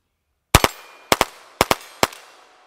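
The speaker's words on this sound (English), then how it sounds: "let's dump another mag here. Let's do some double taps on these silhouettes." Rifle firing high velocity ammunition in quick double taps at silhouette targets, four sharp, loud bursts, three of them paired shots and the last a single, each with a short echoing decay in a quiet setting.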